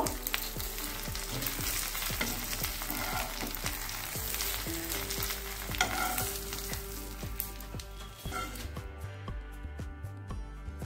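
Cauliflower leaf paturi fries in an open pan, a dense continuous sizzle and crackle that stays close and fairly loud before thinning out near the end.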